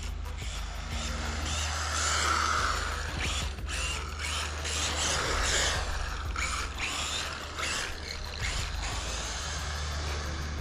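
A custom Losi NASCAR RC car with a Furitek system runs at 70% throttle, giving a steady mechanical whir with ratcheting, gear-like chatter and a constant low drone that holds loud through the whole stretch.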